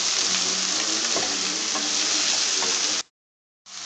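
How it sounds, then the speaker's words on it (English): Onions sauté in a pan for a fish pulao, a loud, close, continuous sizzle that stops abruptly, then resumes after a brief silence. "You're going to saute it till it's a little tender and transparent, translucent."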